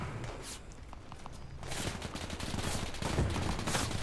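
Gunfire in the Arma 3 World War II Spearhead 1944 campaign, distant rattling bursts and scattered shots rising after a quieter start into a busier, sustained exchange with a heavier thump near the end.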